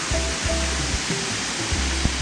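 Thusharagiri's second waterfall running low after a lack of rain, giving a steady, even rush of falling water that holds close and fairly loud throughout, with no voices.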